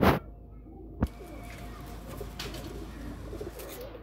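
Pigeons in a loft coo softly and repeatedly in the background over a steady low ambience, with a sharp knock near the start; a group of about thirty birds.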